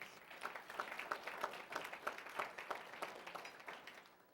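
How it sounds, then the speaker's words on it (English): Dinner audience at an honorary degree event applauding, a steady wash of many hands clapping throughout at moderate distance, tapering slightly at the end. "Let's give her a round of applause."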